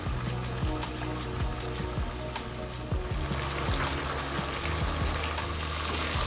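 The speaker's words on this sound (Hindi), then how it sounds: "सबको अच्छी तरह से मिक्स करेंगे और थोड़ी देर के लिए कुक करेंगे।" Pizza sauce of ketchup and lemon juice cooks in a pan on the stove, a steady close sizzle and bubbling with faint stirring scrapes running throughout, no talking.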